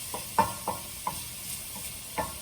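Ginger roots cooking in a pan, a quiet sizzle broken by several soft clinks and scrapes of stirring at an irregular pace.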